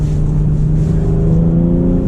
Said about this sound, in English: when I hit the brakes, it actually downshifted for me